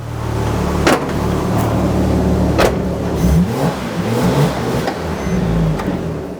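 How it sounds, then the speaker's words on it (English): Porsche 911 Turbo, rebuilt after a crash, revving repeatedly while warming up and driving back and forth; loud, close engine with rising and falling revs and a few sharp clicks or knocks between pulls. "I continued revving and warming the engine up, driving back and forth."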